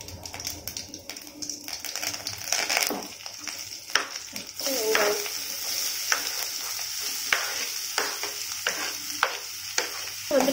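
Dried red chillies and curry leaves sizzle and crackle in hot oil in a pan while a spoon stirs and taps now and then, close and moderately loud, with a voice talking softly over the cooking.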